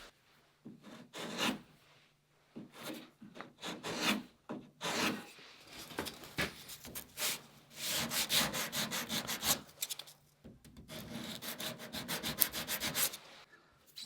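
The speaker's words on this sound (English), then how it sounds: "I'll just use a sanding stick and just" A sanding stick is worked carefully along a small wooden bevel on a dory's cap rail where it meets the transom, giving a run of quiet, uneven rasping strokes, some short and some longer, close by and with no talk.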